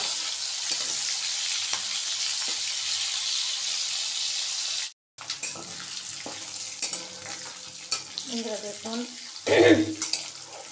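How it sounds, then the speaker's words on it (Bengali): Small shrimp sizzle steadily in hot oil, then after a brief cutoff the frying continues more quietly with clinks and stirring. "এখন এই মাছগুলোকে ভেজে নেব আমি"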